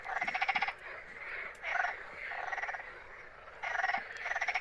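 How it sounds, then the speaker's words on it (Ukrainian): Toad croaking at a pond during a fishing outing, loud rapid pulsed trills in several bursts with short pauses between, close by, with no talk over it. "Ох, жаба расквакалась."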